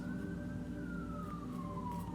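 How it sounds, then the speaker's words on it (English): An emergency vehicle siren wails outdoors in the background, a single slowly falling tone over a steady low rumble, fairly distant. "I got these sirens out here in the background"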